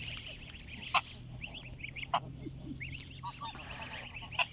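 A flock of geese being fed honks and squabbles nearby in repeated bursts, with a few sharp louder calls standing out over a low background rumble.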